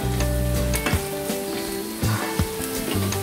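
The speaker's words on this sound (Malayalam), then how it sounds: "അതിനുശേഷം അത് ചെറുതായിട്ടൊന്ന് വഴറ്റിയെടുക്കണം" Finely chopped green chili sautés in a pan, a continuous close sizzle broken by several scraping stirs of a spoon against the metal.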